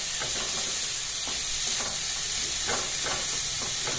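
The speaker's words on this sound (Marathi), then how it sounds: "ह्याच्यात आता आपण हे कापलेले उमराची फळं टाकणार आहोत आणि चांगलं परतून घेऊन" Chopped cluster fig fruit stirred and sautéed in a pan for a vegetable dish, a steady sizzle with repeated scraping stirs at a close, even level and no talking.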